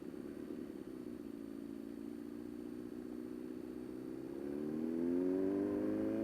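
A Suzuki GSX-S motorcycle with an older-design engine revs steadily, its drone climbing in pitch and growing louder toward the end, close and alone with no talk.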